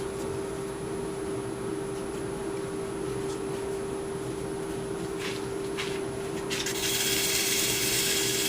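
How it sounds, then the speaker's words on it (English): Hand sanding a sycamore wood blank with sandpaper, a steady continuous rasping rub that runs throughout at close range over a constant motor hum, with a brighter hiss near the end. "Bit of hand sandpaper to get in the corner."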